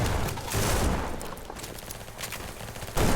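Secondary weapon in the game Battledudes fires in quick rapid bursts, loud and close, with a final sharp burst at the end.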